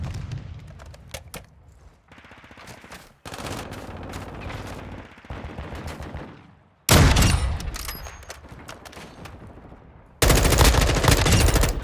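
Gunfire in Call of Duty: Modern Warfare II Remastered: several loud automatic bursts and single shots with pauses between, close up and intense, with the heaviest volleys near the end.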